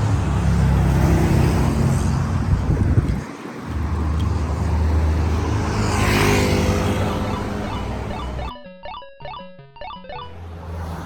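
Busy multi-lane highway traffic with cars, trucks and motorcycles, a continuous loud roar of vehicles passing close by, swelling and fading as they go, with a brief lull partway and a sharp rattling burst near the end.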